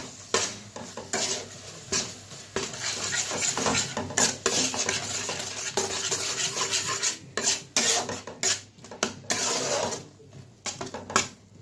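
Chhana, sugar and condensed milk stirred in a pan for kacha golla sweets, with repeated scraping and rubbing strokes of a utensil against the pan in an uneven rhythm, close and fairly loud, with no voices.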